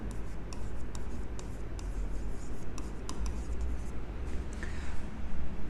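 Accounting equation being written on a classroom board: scratchy strokes in short bursts, close and fairly loud over a constant low background hum.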